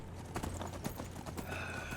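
Horse hooves clip-clopping in a video game, a quick run of sharp irregular hoofbeats near and fairly faint, with a brief game tone toward the end.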